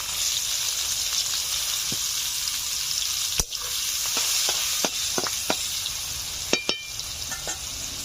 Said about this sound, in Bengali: এই তেলে দিয়ে দিচ্ছি পেঁয়াজ কুচি